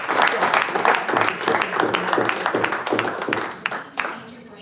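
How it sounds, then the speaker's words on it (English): An audience applauds a basketball show guest, dense continuous clapping heard close and loud, thinning out toward the end. "Big round of applause."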